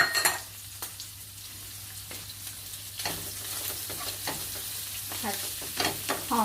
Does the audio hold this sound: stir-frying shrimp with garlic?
yes